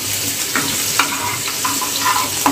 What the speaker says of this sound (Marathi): त्यानंतर लगेच आपल्याला हा जो लसूण घेतलेला आहे ठेचून, तो आपल्याला यामध्ये घालायचा आहे। त्यालाही चांगला फ्राय करून घेऊया।